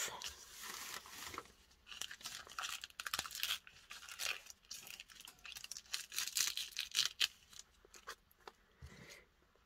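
Dry tea bags with glued edges are peeled apart in a run of close, crinkly papery tearing and crackling bursts, irregular and fairly quiet, with no talking.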